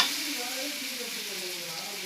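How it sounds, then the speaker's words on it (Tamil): Masala for a crab gravy sizzles steadily in a hot pan while being stirred, a close continuous hiss with soft scraping and no talk. "நல்லா வதங்குது."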